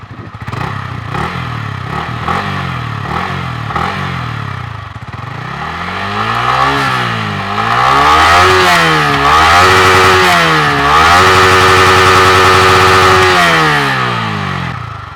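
A 2019 Yamaha MT-15 ABS motorcycle exhaust, heard up close and loud, blips through several sharp throttle revs and then climbs into sustained high revving with rising and falling sweeps.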